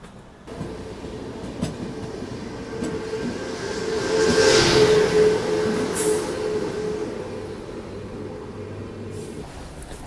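The Howrah Rajdhani Express runs through heavy fog, heard from inside as a continuous rumble of wheels and carriage with faint rhythmic clacks, swelling to a louder pass midway before settling back down.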